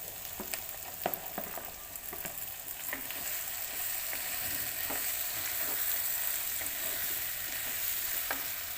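Tomato being stirred into a simmering fish curry in a pan, with a steady broad sizzle and scattered scraping clicks of the spoon throughout, close and moderately loud.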